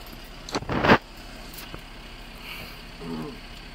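Car keys jangle in a short, close rattling burst beside a car during a roadside police stop, followed by quieter rustling and a faint voice.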